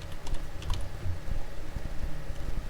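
Computer keyboard typing during spreadsheet-style data entry in a Microsoft PowerPoint table, a quick run of light, close key clicks with irregular rhythm over a low room hum, no voices.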